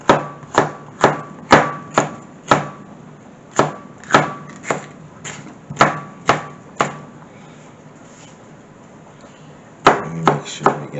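Knife chopping food on a cutting board for egg balls, a quick run of sharp strokes, a pause with no chopping, then another short burst, close and crisp.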